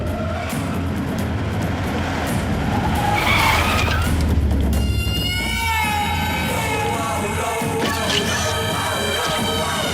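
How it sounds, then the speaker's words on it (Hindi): A car arrives with a long, loud tire skid that screeches over rumbling engine noise in a dramatic action-film scene. "सरकार की गाड़ी आ रही है।"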